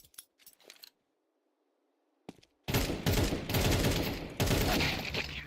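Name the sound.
gunfire in a video game firefight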